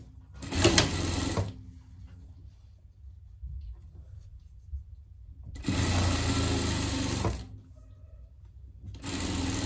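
Short bursts of a sewing machine stitching a pet vest, three separate runs of fast whirring separated by quiet pauses, close and fairly loud.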